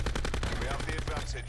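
Rapid automatic gunfire in the shooter game Call of Duty: Black Ops 4, a fast string of close, loud shots at an even rhythm over a short burst.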